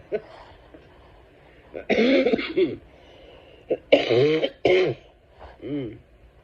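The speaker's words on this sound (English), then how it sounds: "There's the cough I was telling you about" Several harsh coughing bursts from a person with Covid come in clusters, close and loud, with quiet gaps between and a wheezy throaty edge.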